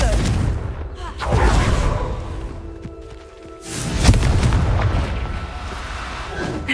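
Confringo explosion spell cast in Hogwarts Legacy, heard as loud booming blasts that swell and fade over a noisy game background, with a sharp burst near the end.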